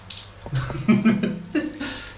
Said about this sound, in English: And the shower kind of works.